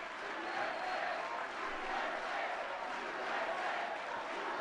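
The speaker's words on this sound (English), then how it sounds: "this crowd literally cannot even manage a chant of USA without becoming breathless" A large crowd gives off a steady, dense roar of massed voices that holds at an even level throughout, with no clear rhythmic chant of USA standing out from the broad din.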